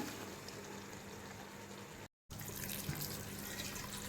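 Water poured or simmering over soaked basmati rice in a pot for biryani, a faint steady rushing bubble with a brief cut to silence midway, no voices.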